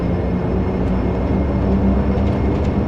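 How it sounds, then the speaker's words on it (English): Dash 8 Q400 turboprop engines roaring at full takeoff power in Flight Simulator X, a steady, loud, dense drone with a low rumble that holds evenly throughout with no voices. "full power for takeoff"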